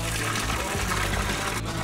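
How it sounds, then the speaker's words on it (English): Cold, iron-rich mineral water pours from a spring fountain in Furnas, Azores, a steady loud close gush of flowing water with faint talk underneath. "we went and checked out a local spring where people go to take some mineral water out of these fountains"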